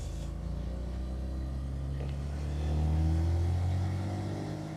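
A Bentley's engine pulls smoothly while driving, a deep, steady drone that swells in a gentle surge of acceleration midway, heard from inside the car with no talk.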